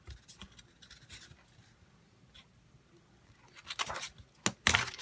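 Thin paper torn by hand from the top edge while crafting, a few quiet ripping scratches building to two or three sharper, louder tearing bursts near the end, with no talk.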